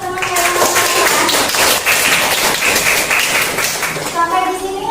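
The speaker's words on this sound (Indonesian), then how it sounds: "Beri tepuk tangan untuk teman-teman yang" Classroom audience clapping for classmates after a group presentation, a dense burst of hand claps with voices talking over and around it.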